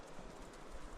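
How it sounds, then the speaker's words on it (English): A horse's hooves clip-clop along a Himalayan trekking trail in Nepal on the way to Everest Base Camp, soft, irregular thuds half-buried in steady wind and outdoor noise. "there's a horse coming"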